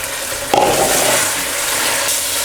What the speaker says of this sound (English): that ginger and garlic frying away with the onions